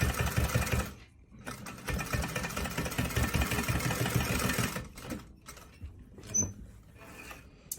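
A sewing machine stitches a channel along a fabric face mask, running in loud continuous bursts with a brief pause, then giving way to softer handling noises.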